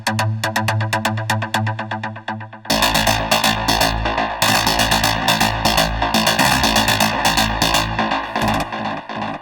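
A synth lead from a melodic techno track plays a repeating melodic line, thin and pulsing at first, then thickening into a loud, full mix with driving kick and bass that swells in layers.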